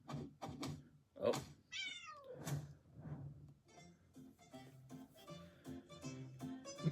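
A cat meows several times, the calls rising and falling, mixed with thumps, knocks and other household noises. Faint voices sound under them.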